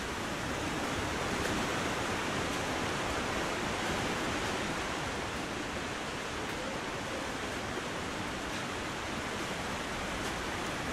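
Steady rushing water of a waterfall in Pleasant Valley in the video game The Long Dark, a dense, continuous roar that stays loud and even throughout with no voices over it.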